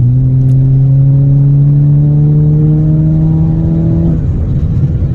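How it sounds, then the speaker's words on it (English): A 2018 Audi A5 Sportback's 2-litre engine revs up steadily, its pitch climbing smoothly for about four seconds before easing off, loud and close. "You just touch your accelerator pedal ever so slightly and it just goes"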